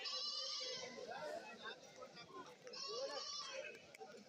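Goats bleat at a rain-soaked goat market in Kerala, their calls rising intermittently beneath people talking nearby.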